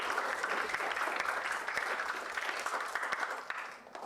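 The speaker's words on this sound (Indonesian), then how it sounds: "Beri aplaus dulu untuk kelompok 1." A classroom of students applauds a group of presenters, steady clapping from many hands filling the room for about four seconds before tapering off slightly at the end.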